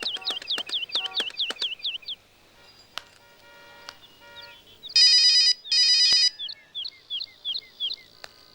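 A phone rings with a chirpy, bird-like ringtone: rapid warbling bursts, then two loud buzzing pulses and more chirps, with quieter gaps between the phrases.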